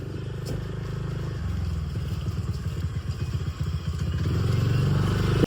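A motorcycle carrying three riders drones steadily at close range, its low rumble rising and falling with throttle and swelling louder near the end.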